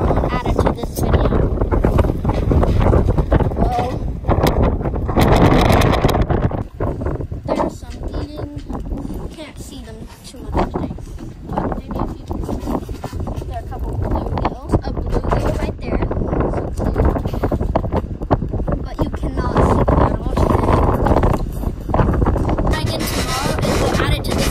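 Strong wind gusts batter the microphone outdoors on a farm by a fish pond, a heavy, continuous low roar with buffeting surges and brief lulls, while a person talks underneath.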